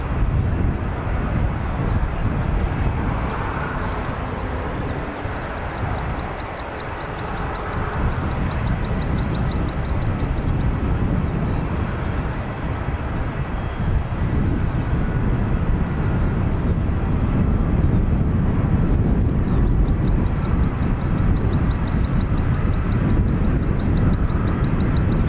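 A Malta Air airliner pushes back at Dublin Airport, its jet engines giving a steady, loud broadband roar with wind buffeting the microphone throughout.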